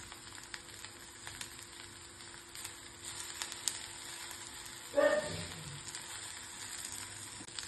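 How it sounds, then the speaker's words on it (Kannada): Oats chitranna ingredients frying in a pan, a steady low sizzle through most of the stretch, swelling into a louder, brighter burst about two-thirds of the way in as something is tossed into the hot oil, then settling back. "ಈಗ ಫ್ರೈ ಮಾಡ್ಕೊಳ್ಳೋಣ"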